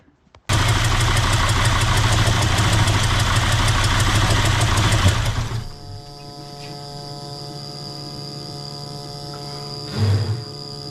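Diesel 2.7 CRD engine in a Jeep idling roughly while intake cleaner is sprayed into the intake, a loud steady rumble with harsh upper noise that abruptly drops to a quieter, uneven idle hum after about five seconds, with a brief surge near the end.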